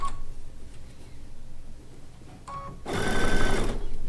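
A sewing machine stitches quilt fabric for a log cabin quilt top, starting up after a quiet pause and running in a loud, steady, fast burst near the end, with light ticking before it.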